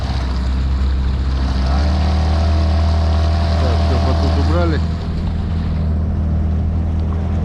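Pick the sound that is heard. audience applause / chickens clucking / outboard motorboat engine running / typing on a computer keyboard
outboard motorboat engine running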